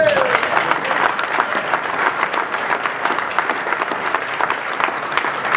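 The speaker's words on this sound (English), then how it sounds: "I wonder if we could have a round of applause for all our speakers." Audience applause for the speakers at a Gilman and McDonogh gathering, a steady dense wash of many hands clapping throughout, fairly loud and close, with no talk over it.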